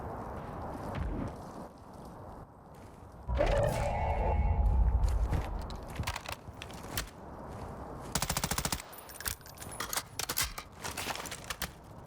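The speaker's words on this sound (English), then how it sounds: "the enemies, they sound like they're fighting" Gunfire in a Warzone firefight on the Vondel map crackles in the distance and at mid range, with rapid automatic bursts and scattered single shots amid game ambience.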